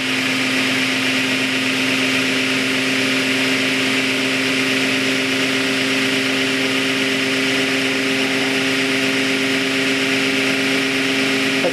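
A generator driven by a cart motor runs at a steady hum, its spinning shaft giving a constant tonal whine over a dense mechanical drone, loud and unbroken with no voices.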